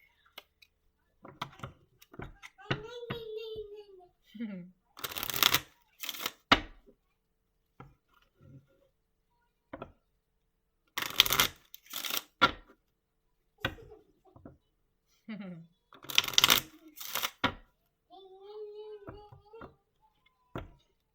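A Kipper card deck is shuffled in three brisk bursts of papery, riffling clatter, separated by quiet stretches that hold scattered taps and soft bird-like chirps close by.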